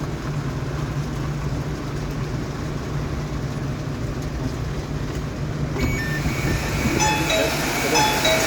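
Inside a crowded KRL CRRC SFC120-V commuter train at rush hour as it pulls into Depok station, a steady loud rumble and hum with rising whines and chimes near the end, and voices underneath.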